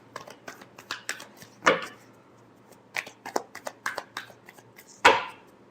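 Tarot cards being shuffled by hand, a string of quick papery flicks and soft taps with two sharper slaps of the deck, close up and with no talking.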